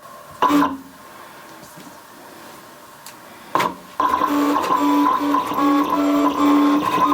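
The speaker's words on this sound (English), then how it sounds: "Your machine will first find all four corners, and then it will scan the document and cut." A Siser Juliet cutting machine working through a job: two short mechanical whirs of the head locating corners, then a steady motorized hum and buzz as it scans and cuts, close and fairly loud.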